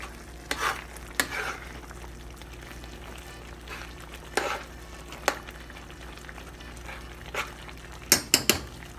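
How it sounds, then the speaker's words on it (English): Sauce for a spaghetti squash dinner cooking down in a pan, a soft low simmer with scattered scrapes and clinks of a utensil against the pan, a quick cluster of taps near the end, quiet and close. "You can stir that in"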